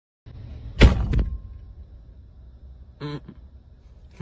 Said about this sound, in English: You know you're slamming your own car door.